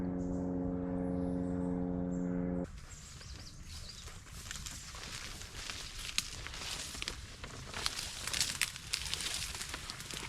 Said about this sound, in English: it's right underneath a flight path for a nearby airport